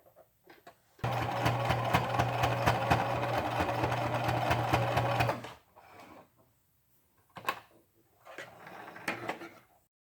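A sewing machine stitches a fabric face mask in one steady burst of about four seconds, followed by short bursts of handling noise and fabric rustling, close and moderately loud.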